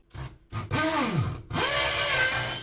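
A power drill boring a hole in a wall to hang a coat rail: two short motor bursts with rising and falling whine, then steady close-up grinding, fairly loud and heard alone.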